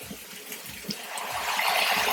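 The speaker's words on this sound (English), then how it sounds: "I'm gonna add a little bit of water." A little water poured into a cooking pot makes a soft trickle and splash that swells slightly toward the end, close by and fairly quiet.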